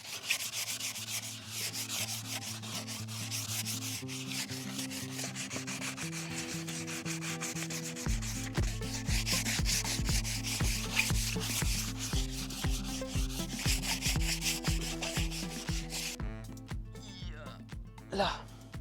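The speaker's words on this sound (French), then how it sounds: "Ce que je vais faire, c'est que je vais lisser un peu en ponçant à la main." Wood being hand sanded with very fine-grit sandpaper while building a wooden chicken coop: a continuous soft rubbing scratch through the whole stretch, running under steady background music, with a brief change near the end.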